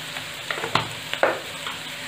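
Vegetables for veg fried rice are stir-fried and tossed in a pan, a close sizzle punctuated by a few quick scraping and clattering strokes of the spoon.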